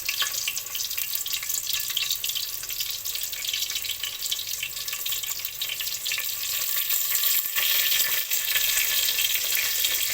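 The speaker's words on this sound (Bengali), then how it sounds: "এখানে দিয়ে দিলাম পেঁয়াজ, এলাচ, দারচিনি, তেজপাতা, লবঙ্গ" Onion, cardamom, cinnamon, bay leaf and cloves fry in a pan with a continuous bright sizzle, close and steady, with occasional stirring scrapes.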